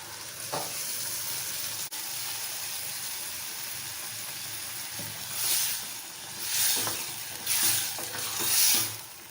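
Steady sizzling and stirring of masala paste in a hot pan for veg salna, with a continuous frying hiss and occasional louder scraping swells toward the end.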